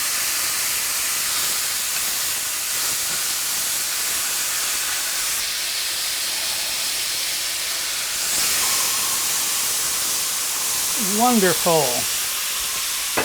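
Cornish game hens laid on a hot griddle over a stovetop hiss and sizzle steadily throughout, with a brief higher squeal near the end and a single spoken word.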